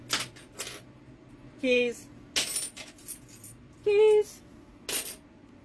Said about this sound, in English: So, keys.